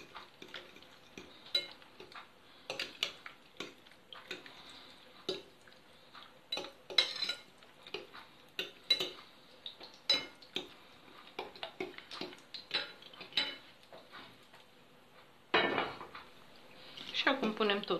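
Utensil clinks and scrapes against a bowl while stirring an egg mixture for an omelette, in a quick irregular rhythm, close and fairly quiet, with a louder burst of activity toward the end.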